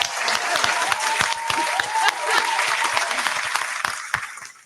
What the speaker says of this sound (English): I'm clapping for all y'all because y'all my new.